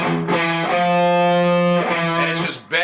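A distorted electric guitar plays a tense F-over-E interval from a riff, with sustained, buzzing notes held for about a second each, loud and close.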